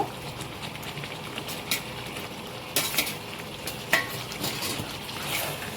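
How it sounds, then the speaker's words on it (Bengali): Fried potatoes sizzle in hot oil in a pan while a chicken curry is cooked down. A steady frying hiss runs throughout, broken by several sharp scrapes and clinks of stirring against the pan. "এবার আমি আলুটা দিয়ে কষবো"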